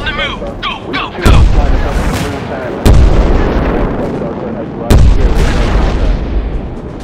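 Loud booming explosions in a MiG-21 jet combat game erupt three times, each a sharp blast trailing into a rumbling roar, with battle noise and chatter-like sounds continuing between them.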